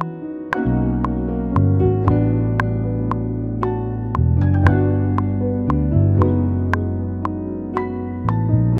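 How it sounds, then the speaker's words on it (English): Electric guitar for an RnB/neo soul track, drenched in heavy reverb with a long decay, plays a slow sequence of plucked notes and chords that ring out and blur into an airy, echoing wash. "I want this guitar to sound really like airy and echoey, so I'm gonna put an EQ. I'm going to put chromoverb on it."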